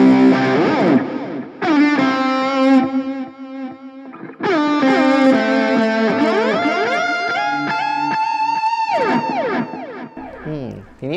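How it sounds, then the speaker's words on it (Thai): An electric guitar plays through a NUX Mighty Lite BT MKII mini amp with delay and reverb on. Loud, slightly distorted chords and single-note runs ring with echoing repeats, playing alone for about eleven seconds. "เปิดดีเลย์ขึ้นมา"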